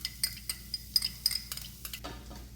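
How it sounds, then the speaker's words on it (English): Garlic cooks in a pan for Puerto Rican beef patty filling, a soft sizzle under a steady series of sharp spoon scrapes and metallic taps against the pan, close and clear with no talking. "you can see that I'm cooking the garlic just a bit"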